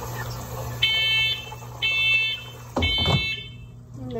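A kitchen smoke alarm sounds during cooking that has begun to smoke, giving three loud, evenly spaced electronic beeps about a second apart, with a short thump and rustle afterward.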